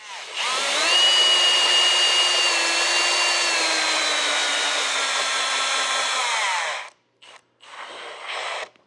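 A power drill whines steadily at high speed for several seconds, drilling a hole through plastic on a Can-Am Maverick R side-by-side, then cuts out, followed by a couple of short bursts.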